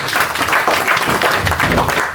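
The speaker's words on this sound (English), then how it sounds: "more clap for all" Dense, steady applause from the crowd at a signing ceremony for a new university constitution, continuous clapping close and loud throughout.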